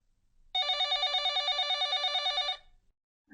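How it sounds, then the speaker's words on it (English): A telephone bell rings steadily for about two seconds with its pitch lowered, a clear, even, pulsing electronic ring alone in the clip, with no talking. "Then work with the pitch of the telephone."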